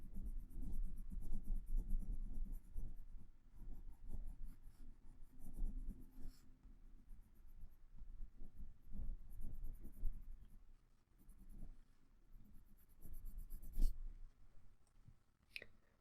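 A white colored pencil shades over green on paper in quiet, close, scratchy strokes, coming in uneven bursts with short pauses and a few light taps.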